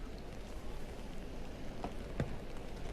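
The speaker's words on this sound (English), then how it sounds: "the weather is typical British summer weather, rainy and wet" Rain falls steadily at the King Charles III coronation in London, a faint, even patter on outdoor surfaces with a couple of slightly sharper drips, and no talk over it.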